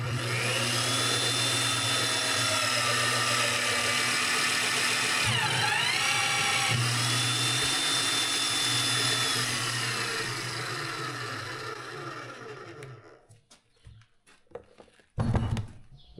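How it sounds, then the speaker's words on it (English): A Weaver magnetic drill runs with a loud, steady motor whine that dips briefly midway. It then winds down and stops, leaving a few clanks near the end. "Weaver mag drill."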